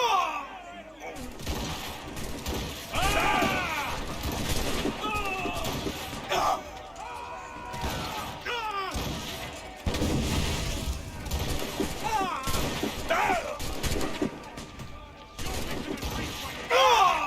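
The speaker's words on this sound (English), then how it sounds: "got two of them with one cannonball" Ship cannon fire in the video game Assassin's Creed Rogue, with repeated booming volleys and mechanical clatter over ongoing game noise while someone talks throughout.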